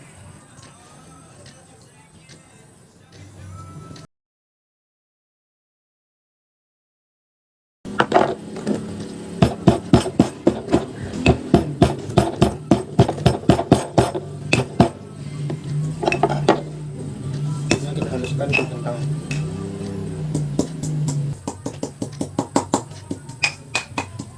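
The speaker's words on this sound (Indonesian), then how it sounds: "kulit kentangnya sudah kita haluskan ke cobek tadi" Chopped potato peels are ground in a stone cobek mortar. After a short silence, a pestle knocks and scrapes against the stone in a loud, close, steady rhythm with light clinks.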